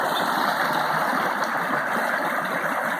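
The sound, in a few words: creek water flowing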